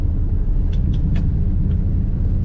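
A 1968 Dodge Dart GTS with a 4-speed gives a loud, steady low rumble while driving, heard from close by with no voices.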